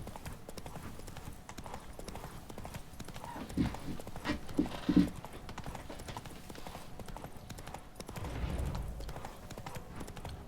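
Hooves of the horse Roach in The Witcher 3 video game clopping at a steady gallop, a quiet rapid rhythm that swells into a few louder thuds, with a brief snort or whinny.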